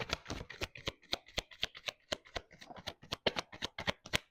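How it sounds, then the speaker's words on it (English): Tarot cards being shuffled by hand, a rapid run of crisp riffling flicks and slaps close by, steady and busy throughout with no voices. "let's pull 3 cards for you for this week for the collective"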